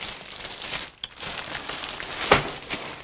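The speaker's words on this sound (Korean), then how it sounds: "비닐도 뜯겠습니다." Plastic wrapping on a Nikon 100th anniversary DSLR backpack crinkles and rustles faintly, with one sharper tearing burst near the end, close and quiet, no talk.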